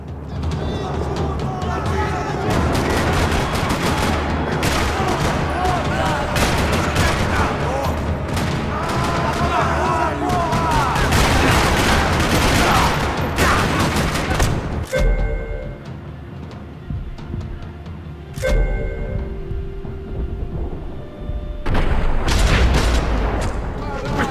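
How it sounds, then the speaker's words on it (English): Gunfire rattles across a parking lot in the Max Payne video game, with dense bursts of shots and booms filling most of the stretch, a brief lull, then more shooting; game music and voices sit underneath. "Another parking lot rattling with gunfire."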